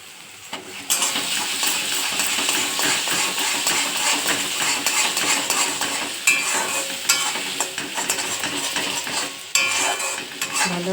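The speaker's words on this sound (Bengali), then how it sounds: "ভালো করে মিশিয়ে দিলাম" Spiced food with salt and turmeric being stirred and fried in a pan: a continuous sizzle with repeated scraping and clinking of a metal spoon against the pan, close and busy throughout, no voices.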